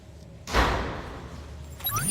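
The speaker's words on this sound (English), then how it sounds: "Close the door." A single solid thud of a door shutting, followed by a lingering muffled ring-down and faint rustling afterward.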